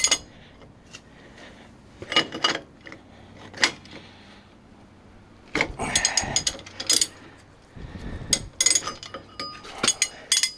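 Ratchet socket wrench turning with bursts of clicking ratchet and metallic clinks between quieter pauses, mostly close and loud, with no talk.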